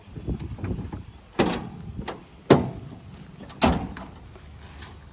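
Back door of a budget van conversion fitted with a fly screen, sliding and latching in a few sharp clunks and clicks spaced over several seconds, close and fairly loud.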